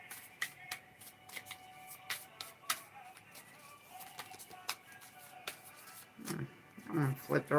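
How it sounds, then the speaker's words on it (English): A deck of cards is shuffled with a series of crisp riffling snaps and taps spread across the moment, fairly quiet and close, followed by a brief voice at the end. "Shuffle it again."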